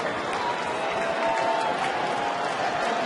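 A large baseball stadium crowd of over 19,000 at a Tigers home game cheers and applauds in the ninth inning, a dense, steady roar with clapping throughout and an announcer's voice faintly under it.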